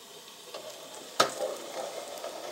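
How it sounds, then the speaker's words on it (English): Water in a Stanley Basecamp cookset on an alcohol stove boils with a soft, steady bubbling hiss, briefly broken by one sharp clatter of the pot, nearby and moderately quiet. "water came right back to a boil right away"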